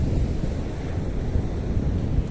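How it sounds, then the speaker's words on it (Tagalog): Big waves break on a white sand beach, a loud, continuous low roar of surf mixed with heavy wind buffeting the microphone. "Lalaking alon yan guys oh"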